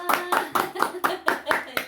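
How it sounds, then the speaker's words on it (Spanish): A small audience claps in a quick, even rhythm, about eight sharp claps in two seconds, close and clear, at a church family gathering. "Nos vamos a dar un aplauso, querida familia."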